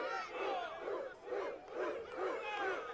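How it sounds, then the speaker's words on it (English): Wrestling arena crowd doing the Arsenio Hall woofing chant, a roaring mass of voices barking in rhythmic swells, fairly distant and continuous. "you can see the crowd doing the Arsenio Hall"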